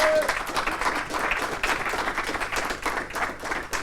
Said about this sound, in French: j'ai le plaisir d'accueillir sous vos applaudissements Florence Martinet